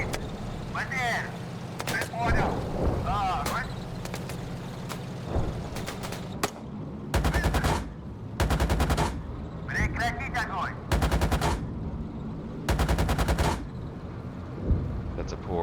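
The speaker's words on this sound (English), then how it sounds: "Switch back to the autocannon." Autocannon fire from a T-64A tank in a combat video game rattles out in several sharp, loud bursts of rapid shots, separated by rumbling engine noise, with some radio-style talk between the bursts.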